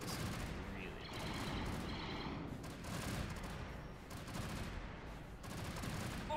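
Blaster gunfire and explosions in a Star Wars space battle video game, dense crackling volleys and rumbling booms layered in a continuous faint wash of combat noise.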